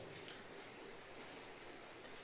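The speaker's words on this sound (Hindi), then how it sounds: "बाहर पीछे टीन पड़ी है तो बारिश की आवाज़ आ रही होगी" Heavy rain drums on a tin sheet roof at night, heard from indoors as a faint, steady hiss with scattered soft drip ticks and no voices.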